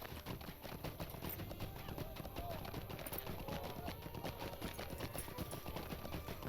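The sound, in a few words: horse hooves clip-clop in LOTRO video game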